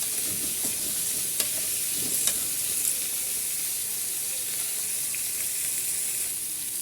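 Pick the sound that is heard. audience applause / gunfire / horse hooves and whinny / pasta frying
pasta frying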